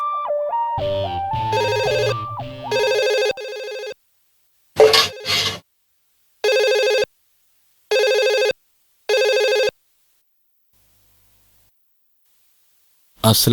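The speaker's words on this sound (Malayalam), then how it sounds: "ഫോണിന്റെ ബെല്ലടി കേട്ടാ ഞാൻ എണീറ്റ" A telephone rings in a Malayalam home drama, its electronic bell sounding in four or five evenly spaced bursts after a stretch of music and a brief voice, then falling silent.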